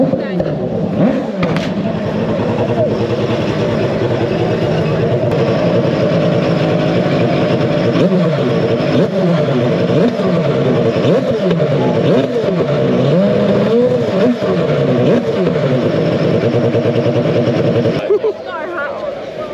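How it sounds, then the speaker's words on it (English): A rotary motorbike engine revs repeatedly at a performance car show, its pitch rising and falling in quick surges, loud and nearby, before cutting off near the end. "I think they're revving up this rotary bike here."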